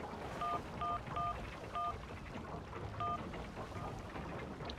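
Touch-tone telephone dialing from the Syberia video game: a series of short keypad beeps, some in quick clusters, others spaced apart, over a steady background hiss with no speech.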